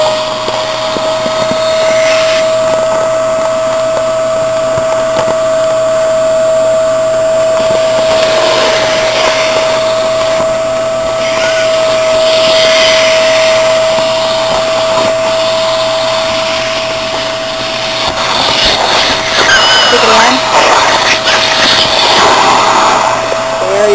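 A vacuum sealer pulls air out of a mylar bag filled with beans, giving a loud, steady motor whine and airy hiss that runs continuously and grows rougher near the end.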